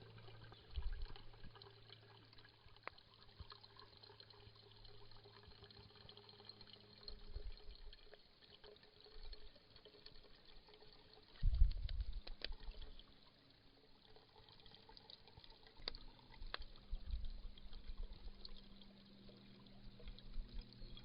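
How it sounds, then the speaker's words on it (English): Filtered water trickling from a Sawyer Mini squeeze filter, a faint thin dribble with a few louder squeezes and handling bumps. "And then once I start squeezing, filtered water comes out."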